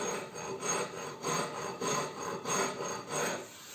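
A rasp scrapes across the wooden body of a Telecaster electric guitar being built, in steady back-and-forth strokes, about seven rough rhythmic passes, close and fairly loud with no voices.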